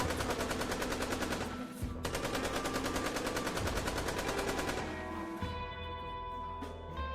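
Rapid automatic gunfire in a Minecraft western video game, a steady burst of dense repeated shots filling most of the clip, loud and close, trailing off near the end.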